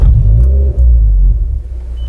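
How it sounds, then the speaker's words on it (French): Inside a Mazda MX-5 NC, the engine cranks and catches, a loud, close low rumble that holds steady, then settles slightly toward idle. "on va démarrer rapidement la voiture pour que vous puissiez entendre ce que ça donne à bord"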